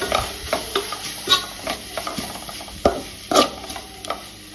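Onions with turmeric are stirred in a frying pan for masala dosa filling: a soft sizzle underneath, broken by intermittent spoon scrapes and clinks against the pan at an uneven pace, close by, with no voices.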